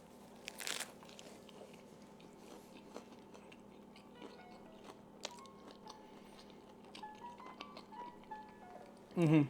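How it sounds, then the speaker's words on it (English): A fried catfish sandwich is bitten into with a crisp crunch, followed by soft chewing and a louder crunch at the end, close to the microphone at low volume. "One more bite, just for posterity's sake."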